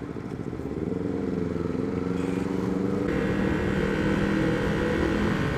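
A Honda CB150R SE motorcycle engine drones steadily as it is ridden, a loud rising rumble with wind rush, close throughout and with no voices.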